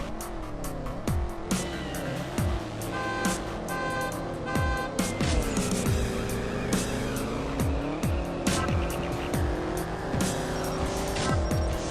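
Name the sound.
Camaro versus Mustang drag race in video game CSR Racing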